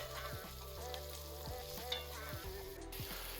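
Peri peri chilli sauce seasoned with sugar, salt and paprika simmers in a pan, giving a steady, even bubbling sizzle close by.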